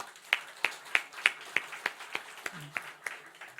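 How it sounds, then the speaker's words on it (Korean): A slow, even run of about a dozen single hand claps in a church service, close and fairly faint with a brief low voice murmur near the end. "우리 박수 한번 합시다."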